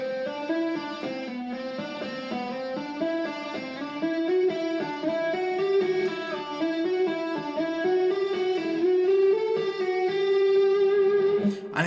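An electric guitar lick played slowly with slides through each position shift, a continuous run of singing, gliding notes with light overdrive, close and even in level.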